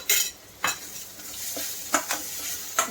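Onions and coconut roast in a pan for chicken korma, a soft sizzle punctuated by several distinct scraping strokes of a spatula against the pan.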